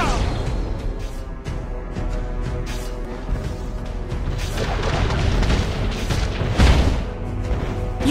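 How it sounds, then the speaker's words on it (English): A turret is blown apart in a Mobile Legends match with Roger, giving a deep rumbling boom and crashing debris over a dense, continuous wash of game effects. "Your team destroyed a turret."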